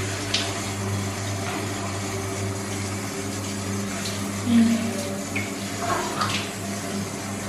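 Shower water runs steadily while a dog is washed under it, a continuous close hiss of spray with faint splashing shifts, and no talking.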